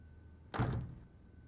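A single heavy thump of a door in a domestic drama scene, one short dull impact lasting under half a second against a quiet room.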